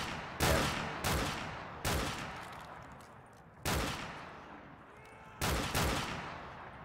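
Gunfire in the Black Ops 3 Zombies video game: five loud, separate gunshot blasts spaced roughly a second apart, each with a sharp attack and a short decaying tail. The shots stand alone with no talking over them.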